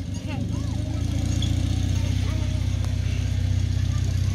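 A German military motorcycle at a wartime reenactment in Zsámbék, its engine idling with a steady low, throbbing rumble up close, while people talk over it.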